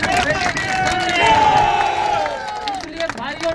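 A crowd at a farmers' rally claps and cheers in a sustained wave of applause, mixed with shouting voices and babble.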